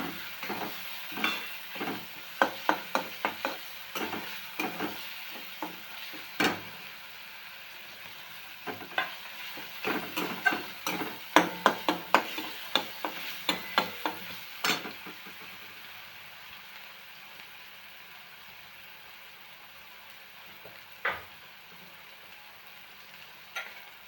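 Coconut paste for usal roasts in a pan, giving a soft steady sizzle with a busy run of close scraping and stirring clicks that thin out and fade to a quiet hiss later on.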